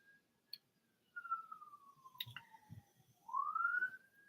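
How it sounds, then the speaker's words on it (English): A siren from a passing fire truck or ambulance wails in a single long falling sweep, then rises again, heard faint and distant outside with a few soft clicks beneath. "that's the fire truck or ambulance or whatever."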